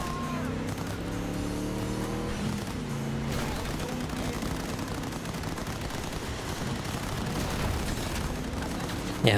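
Race car engines roar continuously while racing in Cyberpunk 2077, a loud steady drone with shifting pitch, mixed with bursts of gunfire throughout.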